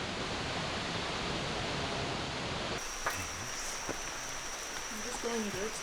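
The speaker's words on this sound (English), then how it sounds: "past rushing streams and waterfalls." Rushing streams and waterfalls in a Ugandan rainforest make a steady, dense roar of water for about three seconds. It then cuts to a quieter forest scene with a few faint knocks and bird calls.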